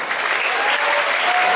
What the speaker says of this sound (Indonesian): Langsung spontan tepuk tangan.